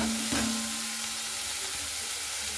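Kharkol stems are added to a hot pan without water and sizzle in oil with a steady, close hiss, and a brief clatter of stirring near the start.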